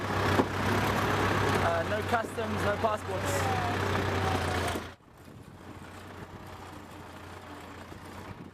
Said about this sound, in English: Crossing the border into Syria on an old tractor.